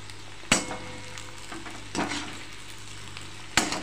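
Sabudana khichdi stirred in a pan, with soft sizzling frying underneath and a few sharp scraping strokes of the spoon spaced out over a few seconds, close and fairly quiet, no talking.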